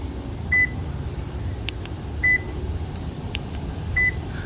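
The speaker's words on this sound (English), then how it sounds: "Press the lock button on the remote 3 times with about 1 second between presses. There will be a beep at each press." A Toyota key remote's lock button is pressed three times, and the vehicle answers each press with a short, clear electronic beep. The three beeps come about a second and a half apart, with faint clicks between them over a low, steady hum.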